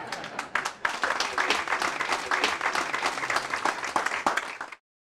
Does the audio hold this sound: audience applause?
yes